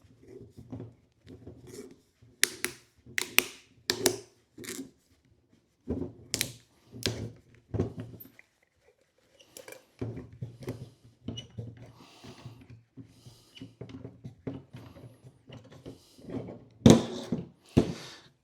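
A Purolator Gold oil filter is cut open, producing a series of sharp, irregular clicks and thunks with quiet gaps between bursts, close and fairly soft.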